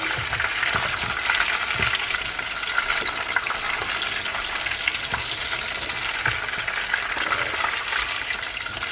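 Meat for katsudon frying in hot oil, a steady, close bubbling sizzle with crackling pops running unbroken throughout, with no voices over it.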